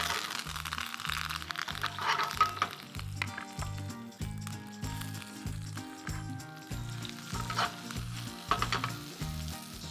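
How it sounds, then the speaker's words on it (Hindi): Curry leaves crackling in a hot spice tempering for a Sri Lankan pumpkin curry, a bright continuous sizzle over a steady rhythmic musical backing. "इस बेसिक तड़के में करी लीव्स डालते हैं"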